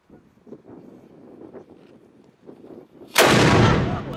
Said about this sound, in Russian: вы сможете увидеть, как стреляет пушка